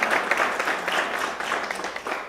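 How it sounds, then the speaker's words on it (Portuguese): A congregation claps during a Sunday morning church service, dense and steady at moderate loudness, with a few louder claps standing out. "Se você crê, dê um forte aplauso a Ele nessa manhã."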